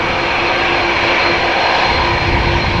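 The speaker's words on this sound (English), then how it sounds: "So in the foreground we have A319 Croatia Airlines to Zagreb." A Croatia Airlines Airbus A319 jet sits in the foreground at a busy airport, its engines giving a loud, steady broadband roar that holds evenly throughout with no voices.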